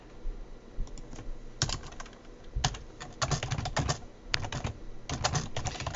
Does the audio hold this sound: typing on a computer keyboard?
yes